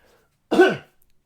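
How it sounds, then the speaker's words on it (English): A single short, throaty cough bursts out once in an otherwise quiet room, close to the listener. "Sorry, I'm going to cough again."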